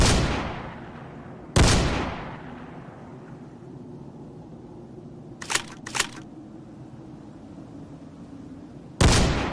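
Gunfire in video game combat against enemy AI in a post-apocalyptic shooter: a few loud single shots with decaying tails, spaced far apart, plus a quick pair of sharper cracks in the middle, with no talk.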